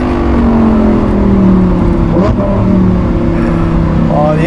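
A Lamborghini Huracan STO with a Novitec exhaust revs loudly up close, its engine note climbing and falling in sweeping tones, with a brief blip near the middle and a fresh rise at the end.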